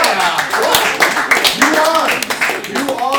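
A live improv comedy audience bursts into sustained clapping and cheering in a New York theater, loud and continuous throughout, with whoops rising over the dense applause.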